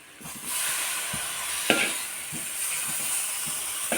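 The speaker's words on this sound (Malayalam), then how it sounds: "ഇനി നമുക്കിപ്പോൾ തക്കാളിക്ക ഇടാം" Tomatoes tipped into a pan of well-roasted spice powders for vegetable masala rice, giving a steady close sizzle and hiss with a few soft stirring scrapes and clinks.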